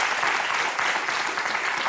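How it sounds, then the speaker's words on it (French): Studio audience on a French daytime talk show applauding guests, a dense, continuous clapping that stays level and fairly close throughout, with no voices over it. "Merci de les applaudir."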